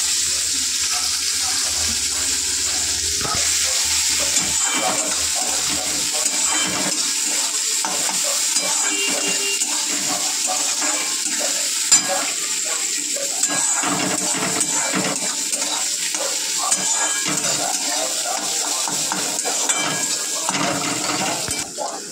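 Chopped onions fry and are stirred in a pan in a kitchen, giving a continuous bright sizzle broken by irregular scraping and clinking strokes of a utensil throughout, fairly close and steady.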